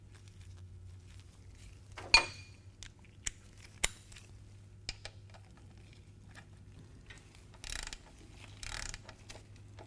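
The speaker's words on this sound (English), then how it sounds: "I like to start it by hand and then snug it up with my socket wrench" A socket wrench ratchets a Harley-Davidson motorcycle's primary drain plug snug with a 5/8 inch socket: sparse, faint clicks and short ratcheting bursts over a low steady hum.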